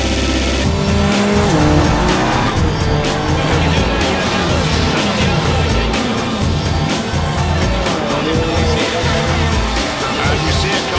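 A Porsche Group C race car is driven fast around a track, its engine roaring loud and continuous with gear changes and tire squeal throughout.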